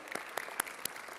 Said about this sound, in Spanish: Dese un aplauso fuerte a usted.